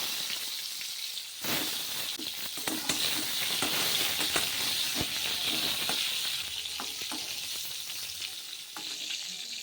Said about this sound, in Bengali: এদিকে তো লুচি ভাজা হয়ে গেল